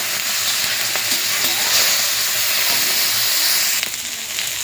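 Tomatoes frying in a pan for chutney, a steady loud sizzle and hiss with faint stirring scrapes throughout, no voices.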